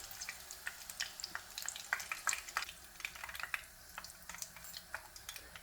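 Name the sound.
Sri Lankan fish cutlets frying in oil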